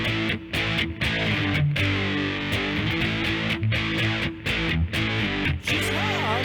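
Electric guitar played through a distortion effect, thick sustained chords with brief breaks between strums, loud and close, alone without talk, during a lesson.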